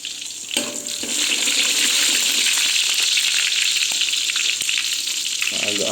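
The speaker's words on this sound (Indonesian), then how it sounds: "Masukin bawang putih dulu." Chopped garlic sizzles steadily in hot oil in a pan, a loud, continuous frying hiss that swells after a brief quieter start and carries on without pause, with a few faint clinks.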